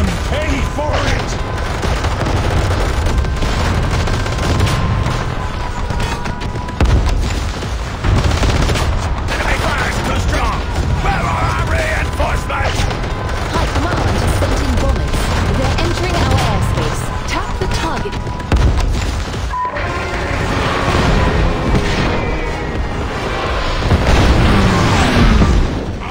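Gunfire and explosions in the mobile war game Warpath, loud and relentless: overlapping volleys, booms and rattling shots pile up continuously, with brief voiced battle lines mixed in.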